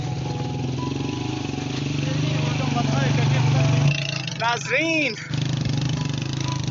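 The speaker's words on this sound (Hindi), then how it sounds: "बाइक की खसूसियत ये है कि ये 125 है" A 125cc motorcycle running on rough roads in Kashmir, a steady mid-pitched engine drone heard up close, interrupted midway by someone speaking briefly over it.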